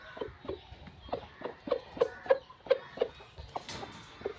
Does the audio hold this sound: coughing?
no